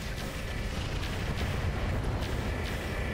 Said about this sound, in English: We better fire everything.